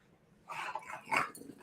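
A pet dog barks and whimpers in a short burst close to the microphone during a home live stream, a few quick yelps over about a second with no talk.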